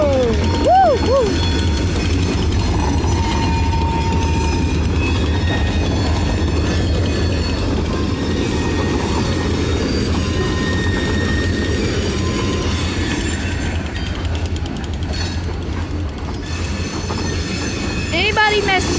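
A Kiamichi Railroad train rolls past loud and close for the whole stretch, with a heavy rumble, sustained wheel squeals and flange screeches rising and fading, and faint talk underneath.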